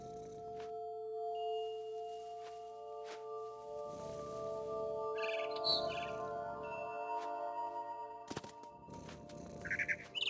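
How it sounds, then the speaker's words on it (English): Barn swallow chirping outside a window in the game What Remains of Edith Finch, several short high tweets scattered over a steady tonal ambient hum, fairly faint. "Then I heard chirping outside my window. It was a barn swallow going back to her nest."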